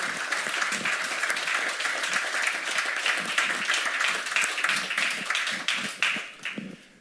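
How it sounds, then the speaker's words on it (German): An audience applauds panelists at the inauguration of a Power-to-Liquid e-kerosene plant in Werlte, with a steady, moderately loud patter of many hands clapping that thins out and fades toward the close. "Ganz herzlichen Dank auch für den Applaus, der Ihnen allen als Panelisten, Panelistinnen gilt"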